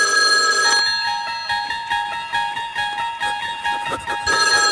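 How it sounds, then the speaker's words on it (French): A telephone rings loudly and nearby in a steady series of rapid bell trills repeating over several seconds. "Très souvent, quand on me téléphone, je laisse sonner."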